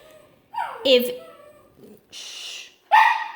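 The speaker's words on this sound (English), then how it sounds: "so that's my dog." A dog indoors gives a few short, close barks and yips with whimpering, spaced irregularly with brief pauses between them.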